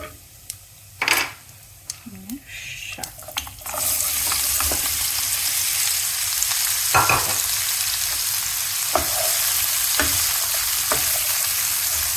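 Tomatoes and salt sizzle and fry in hot oil in a home kitchen, a loud steady crackle that kicks in after a few seconds, with a few sharp stirring and utensil clinks over the frying.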